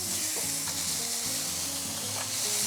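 Chopped scallions and garlic fry in a spoonful of cooking oil over medium heat for a Korean perilla zucchini stir-fry, giving a steady, close, even sizzle with no talking.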